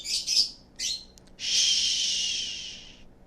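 A pet bird chirps and tweets close by in a quiet room, with a few short bursts followed by a longer sustained high twittering call.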